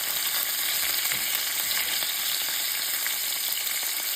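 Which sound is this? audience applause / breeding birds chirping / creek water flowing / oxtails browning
oxtails browning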